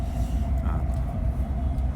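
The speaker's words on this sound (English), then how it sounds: "Sorry about the noise, guys, but I'm still on the train" Inside a moving train, a steady low rumble and droning hum fills the carriage, continuous and fairly quiet, with no clear talk over it.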